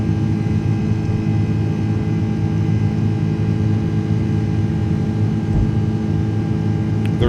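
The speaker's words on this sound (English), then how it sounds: "It's about the only time I've heard the engines." Jet engines of an iniBuilds A330-200 climbing after takeoff in Microsoft Flight Simulator 2024, a constant heavy droning roar with a brief low thump near the end and no voices.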